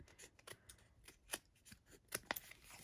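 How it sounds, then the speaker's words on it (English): Snips trimming the edges of patterned paper pieces for a reindeer Christmas card, a quiet scatter of short crisp cuts in an irregular rhythm, close by and alone. "I'm going to take my snips and just trim off the edges of these pieces"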